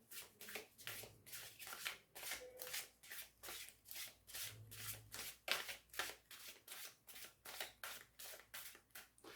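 Tarot cards are shuffled by hand for a birthday spread, each riffle a quick, crisp burst repeating in a steady rhythm, close and quiet with soft pauses between.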